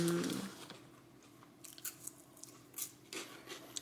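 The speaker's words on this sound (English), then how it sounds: "He's eating hot fries right now." Someone eats crunchy Hot Fries snacks. A few faint, scattered crunching bites sound quietly up close, with no talking.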